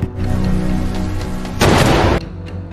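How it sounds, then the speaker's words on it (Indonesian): Gunfire in a film scene bursts out as a loud, noisy blast over a steady rumbling background, standing out clearly for about half a second before dropping back. "Mereka saling mengarahkan senjata dan terdengar 2 tembakan."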